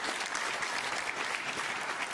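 Steady, dense applause from a snooker crowd at a Ronnie O'Sullivan versus Lukas Kleckers match, many hands clapping continuously and evenly throughout, fairly loud and filling the room, with no voices standing out.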